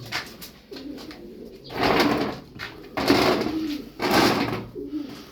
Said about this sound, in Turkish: 20 tane kuş var.